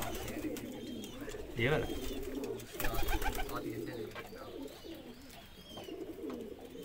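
Shirazi pigeons coo steadily in a breeding setup, soft repeated calls under a low murmur of nearby voices, with a person speaking briefly partway through.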